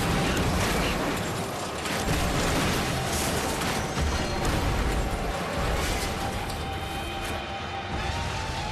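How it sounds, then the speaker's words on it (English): A race car crashing and tumbling end over end in a wipeout, heard as a dense, continuous roar of grinding metal and rumbling impacts, loud and close throughout with no talk. "The vehicle launches out of a small ditch and somersaults 8 times in a spiraling explosion of metal."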